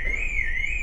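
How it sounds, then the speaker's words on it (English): A car alarm blares on a car ferry to Northern Ireland with a steady high-pitched electronic tone, loud and continuous, with low rumbling noise underneath. "There's a car right there whose alarm is going already."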